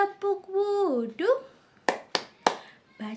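A child leads the tepuk wudu clapping chant in a classroom, singing in a rising voice, then three sharp, distinct hand claps ring out close by before the voice resumes.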